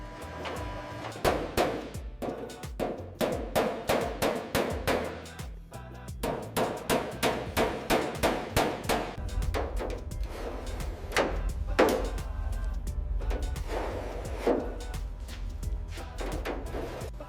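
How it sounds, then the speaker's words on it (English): Sheet-metal body panel worked on an English wheel in a shop, with a steady run of sharp metallic clacks and thumps in rapid rhythmic bursts, close and clear with no talking. "A metalworker uses an English wheel to gently shape a body panel, eliminating imperfections."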